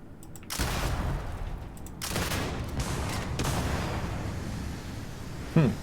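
Video game explosions and rapid gunfire burst out in heavy waves, a dense rumbling barrage with brief lulls and a sharp crack near the end.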